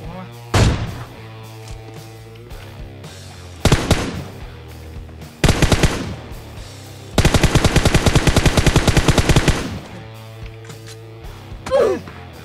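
Gunfire from the mobile shooter game PUBG Mobile comes in loud separate bursts, ending in a long rapid automatic volley, with quieter pauses and game sounds between.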